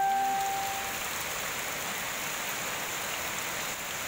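Heavy rain pours down in a dense, steady hiss, loud and unbroken, with a brief tonal beep at the start and no voices.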